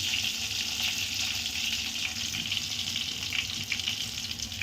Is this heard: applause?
no